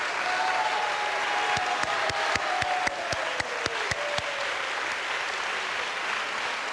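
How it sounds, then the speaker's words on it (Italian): A television game-show studio audience claps steadily in warm applause while a sustained tone glides downward, punctuated by a series of sharp percussive hits. "Fate un grande applauso"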